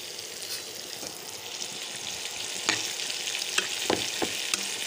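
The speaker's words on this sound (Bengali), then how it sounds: "পেঁয়াজটা এবার আমি লাল লাল করে ভেজে নিব।" Onions fry in oil with a pinch of salt for a puti fish chochchori, giving a steady, soft sizzle broken by occasional scraping taps of a spatula stirring in the pan.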